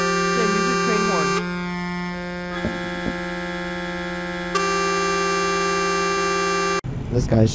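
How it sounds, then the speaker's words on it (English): A loud, sustained multi-tone train horn in a truck simulator video game blares for about seven seconds, shifting pitch a few times, before cutting off into brief background talk. "Okay, use your train horn."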